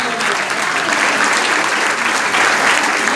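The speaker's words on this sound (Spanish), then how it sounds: "Un aplauso para ella." A school's fiftieth-anniversary audience gives a teacher loud, dense, continuous applause for a few seconds.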